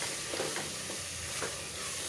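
Coriander powder being stirred into a hot frying pan: a soft, fairly quiet sizzle with gentle scraping strokes of the spoon.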